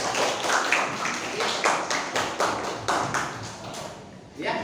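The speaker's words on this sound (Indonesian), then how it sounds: "Beri tepuk tangan untuk semuanya." Classroom applause in a lesson, a group of people clapping in rhythmic bursts that swell and fade in repeated waves, close and fairly loud.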